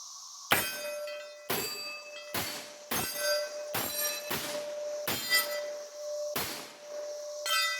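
Rapid semi-automatic shots from a Bear Creek Arsenal BC9 9mm upper with a 10.5-inch barrel at a 7-yard range, eight sharp loud reports in quick, fairly even succession, each ringing briefly.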